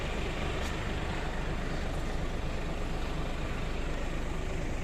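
Mercedes Actros truck on the road, heard from the cab as a steady, loud, broadband rumble of engine and road noise with no pauses and no voices.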